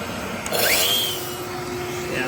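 A vacuum sucking up bees and honeycomb during a roof removal, a droning suction whine with shifting pitch and scraping bumps, with a person talking over it.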